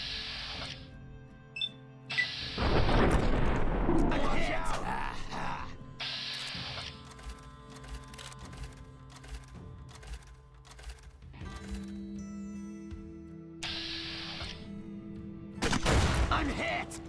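Grenade rifle launching 40mm grenades in the video game Fallout New Vegas: a few separate loud bursts spaced several seconds apart, with mechanical clicks and reloading clatter in between.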